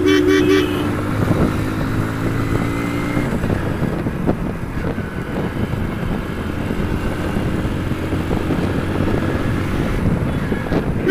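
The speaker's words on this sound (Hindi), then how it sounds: "यहाँ पे है ट्रैफिक देख सकते हो आप" Busy road traffic recorded from a moving scooter, with a steady rumble of engines and wind noise, and horns tooting loudly at the start, then a dense continuous din.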